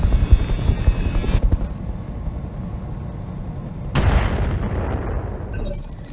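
Helicopter rotors thrum in the RogueTech BattleTech game, a loud continuous low whirring with booming impacts, then a sharp burst and a rushing roar midway, no talk.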